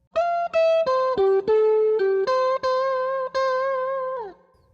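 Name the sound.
electric guitar phrase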